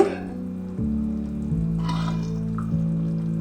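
Fish curry with potatoes bubbling in a pot as the lid comes off, a soft steady simmer with faint drips and gurgles over a low hum.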